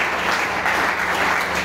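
Church congregation applauding together in steady, dense clapping during a French-language sermon, loud and sustained with no voices over it.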